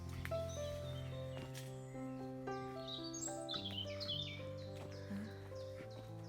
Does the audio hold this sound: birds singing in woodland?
yes